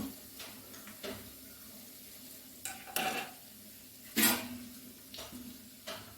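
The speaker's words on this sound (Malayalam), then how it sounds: "ഇപ്പം നോക്കിയാൽ ഇതേ കണക്ക് ഫ്രൈ ആക്കി എടുക്കണം കേട്ടോ നല്ല ഗോൾഡൻ ബ്രൗൺ നിറമാണ്" Veg manchurian balls deep-fry in oil with a low, quiet bubbling sizzle, broken by several louder bursts of stirring or lifting from the pan.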